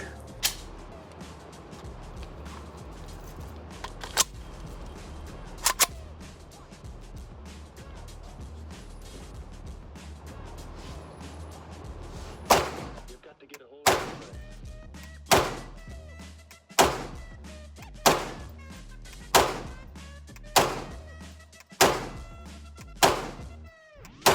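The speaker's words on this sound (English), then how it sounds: "I'll show you guys shooting suppressed and unsuppressed." Mac11 fired at a range, suppressed and unsuppressed: a few sparse sharp reports first, then a steady, evenly spaced string of single loud shots about once a second, each with a quick decay.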